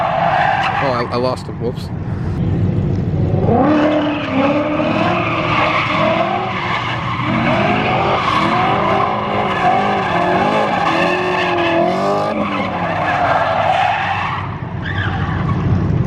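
A 2017 Shelby GT350 drifts with loud, sustained tire squeal and skidding over a revving engine, the screech wavering through transitions for many seconds while a person talks briefly.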